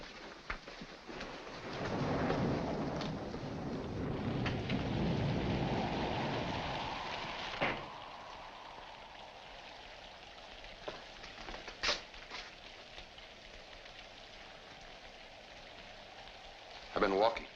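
Steady rain with a rumble of thunder from a 1946 noir thriller film, a dense hiss that swells then fades into a quieter patter, with a few sharp knocks and clatters later on.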